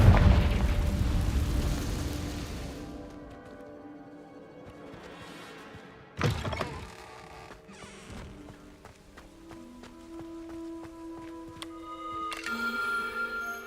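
Confringo blasting spell exploding in the video game Hogwarts Legacy: a loud burst at the very start that decays over a few seconds, then a second sharp impact midway, both over tonal game music.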